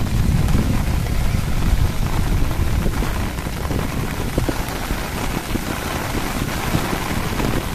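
A strong wind and rain storm lashes Manila Bay, with dense, loud rain hammering surfaces and a continuous roaring wash of gusts throughout, no voices heard.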